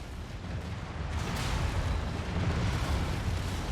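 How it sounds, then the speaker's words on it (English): A heavy explosion in MechWarrior 5: Mercenaries, a deep rumbling blast that swells and sustains as a dense roar for several seconds. "Oh, that spider just ate that explosion."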